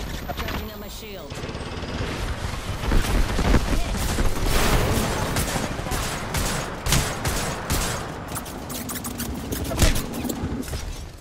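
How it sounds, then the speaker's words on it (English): A heavy firefight in Apex Legends fills the scene with loud, overlapping bursts of automatic fire and sharp impacts, a constant barrage with voices faintly underneath. "I'm taking shots."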